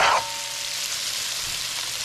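Onion frying in a pot, a steady moderate sizzle right after a brief louder clunk at the start, with no voices.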